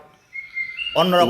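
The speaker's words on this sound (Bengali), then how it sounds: "দেখেন কীভাবে পাখিগুলা ডাকাডাকি করছে" Myna birds calling close by: a thin sustained whistle followed by a louder, harsher run of rapid calls, brief and clear.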